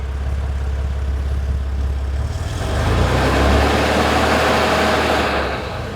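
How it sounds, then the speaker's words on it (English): A warmed-up 1963 Corvair Monza engine idles smoothly at about 600 RPM, a steady low hum that swells slightly midway, close and continuous with no talking. "It's all warmed up. It's sitting there idling at 600 RPM."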